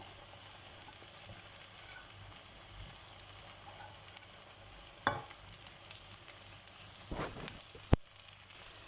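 Carrots, potatoes and broccoli fry in oil with a faint, steady hiss of sizzling, broken by a few sharp clicks and clatters as the pan is handled, quiet and close.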